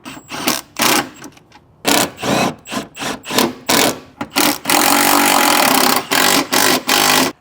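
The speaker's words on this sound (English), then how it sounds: "go ahead and tighten them all the way down." Bolts being tightened down while a K&N air intake is installed on a Toyota Tacoma, heard as loud, close bursts of rapid ratcheting or power-tool whirring separated by short pauses, with a long continuous run late on.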